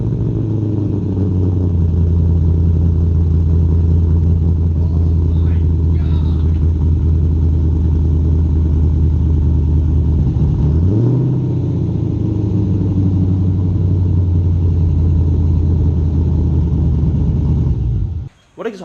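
A car with a straight-piped true dual exhaust, three-inch pipes down to four-inch tips, idles loudly with a deep rumble, revs up once around the middle and settles back, then cuts off abruptly near the end.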